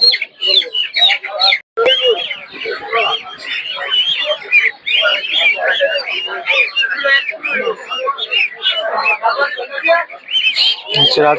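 Native chickens and ducks crowd a Saturday village poultry market in Puthia, with steady clucking, squawks and cackles running throughout, mixed with the chatter and calls of buyers and sellers nearby.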